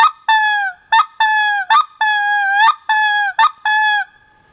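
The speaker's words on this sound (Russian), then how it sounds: "половинка дабл клака имеет такой звук" A hunting game call blown in a half double clack, giving a series of loud, close, honking goose-like notes, each one opening with a sharp click and repeated in a quick, uneven rhythm.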